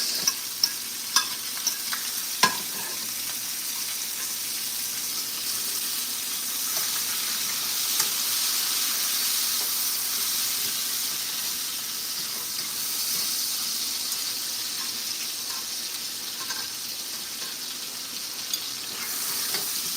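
Garlic and onions sizzling in a pan while steak is being cooked, a steady close frying hiss for the whole stretch, with a few sharp utensil clicks near the start and no talk.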